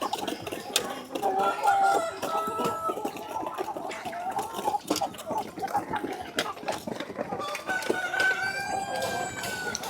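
Broiler chickens weighing roughly 2.25 to 3.25 kg, kept on a backyard farm, cluck and call continuously and fairly close by, with overlapping bird voices throughout.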